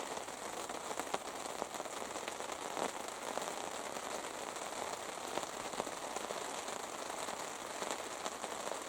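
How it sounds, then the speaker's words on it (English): Steady rain pattering on an awning, a dense continuous hiss with scattered drop ticks, fairly close and even throughout. "Well, you guys can hear the rain"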